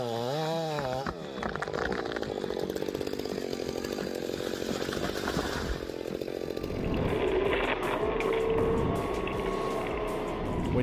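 A chainsaw cuts through storm-damaged trees, its engine buzzing loud and close and rising and falling in pitch as it bites into the wood, continuous throughout.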